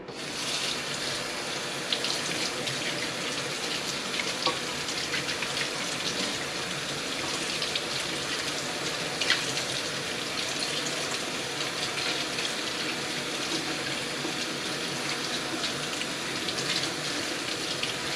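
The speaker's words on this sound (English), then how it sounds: "It's very full of sand. It will need a wash out." Tap water runs steadily into a sink while sandy food is rinsed under it, a continuous close gush with light splashing and no talking.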